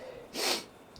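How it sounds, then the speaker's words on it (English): A single sharp sneeze bursts out close by, one quick breathy blast in the middle of an otherwise quiet moment. "I'm starting to get the feeling that I'm about to sneeze"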